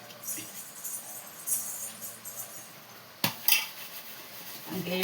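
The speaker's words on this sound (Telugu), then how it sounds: "కాసేపు మూత పెడదాం ఫ్రెండ్స్" A lid is set onto a pot of simmering bean curry, giving one sharp metallic clatter partway through, with softer clinks of cookware before and after over a faint background hiss.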